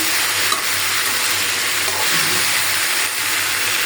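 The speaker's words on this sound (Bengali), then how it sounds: "আমি এই কড়াইতেই ভেন্ডি আবার ভাজি বসায় দিলাম" Okra sizzles and crackles in hot oil in a wok, a steady close hiss with a few faint stirring scrapes, no voices.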